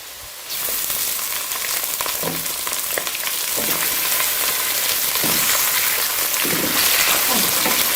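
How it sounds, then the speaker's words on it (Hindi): Chicken pieces hit hot oil with golden-browned onions in a pot for pulao, setting off a loud, continuous close sizzle with occasional stirring scrapes. "अब मैं इसके अंदर चिकन ऐड करती हूँ"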